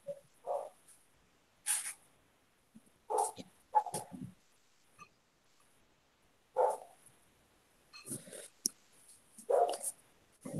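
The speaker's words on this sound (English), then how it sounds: "What are they barking about now?" Dogs bark in scattered bursts from next door, short sharp yaps coming several times over the stretch with quiet gaps between, moderately distant and faint.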